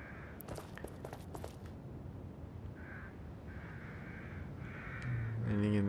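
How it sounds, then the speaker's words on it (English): Several crow caws sound in The Evil Within video game, harsh repeated calls in short clusters at moderate distance, with a louder mechanical sound cutting in at the end. "I hear crows."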